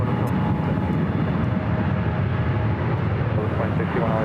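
A jet airplane at LAX rolling for takeoff, a loud steady low engine roar filling the whole stretch, with radio chatter over it.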